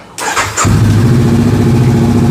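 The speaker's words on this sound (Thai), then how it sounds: "สตาร์ทเครื่องครับ" A Honda CBR500R motorcycle's engine cranks briefly, then catches and settles into a steady, loud, close idle.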